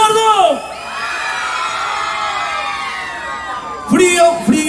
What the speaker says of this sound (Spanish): el grito por el lado izquierdo.